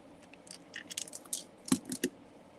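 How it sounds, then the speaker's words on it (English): Scissors snip through basic white cardstock in a few quick, crisp cuts, quiet and close, with no talking. "let's snip this off"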